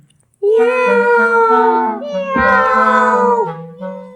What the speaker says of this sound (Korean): 고양이는 클라리넷,